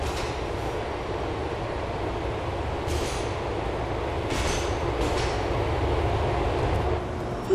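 A train in Grand Theft Auto IV runs on the LTA Rail line in Algonquin, giving a steady, loud rumble of wheels on track with a few brief higher squeals and rattles over the continuous roar.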